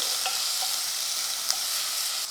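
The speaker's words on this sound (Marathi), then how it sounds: "आलं लसूण पेस्ट मंद आचेवर दोन मिनटं परतून घेऊ" Ginger garlic paste sautés over a low flame in a pan, giving a steady, close, even sizzle that runs throughout with a few faint clicks and no talking.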